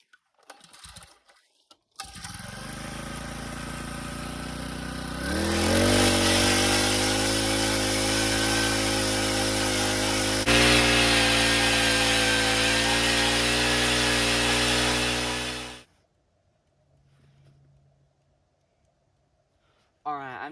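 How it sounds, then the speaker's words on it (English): A powered ice auger drills holes on a frozen mountain lake. The engine starts, then revs up to a loud, steady whine and grind for about ten seconds before cutting off, leaving quieter sounds nearby. "so I got the auger already. I'm just going to go ahead and drill a couple holes right around here in this area."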